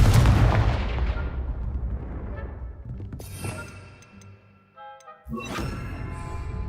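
A Confringo spell fired in the Hogwarts Legacy video game, heard as a loud booming blast that decays over a couple of seconds, followed by sharp crackling impacts and ringing magical tones, with no voices.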